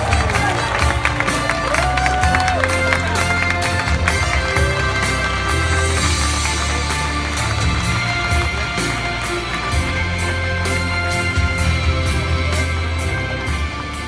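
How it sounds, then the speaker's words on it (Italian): A large outdoor crowd at the 2018 Giro d'Italia awards ceremony applauds and cheers the winner Chris Froome, a loud continuous roar of clapping and voices over amplified background sound. "prepariamo l'applauso per Chris Froome!"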